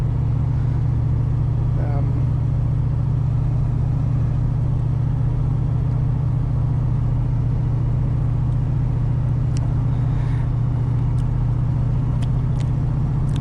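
Inside a 35-year-old Holden VN with a V8 and manual gearbox, the engine drones as a steady low rumble on a lifted throttle, with constant road and cabin noise and a few faint ticks.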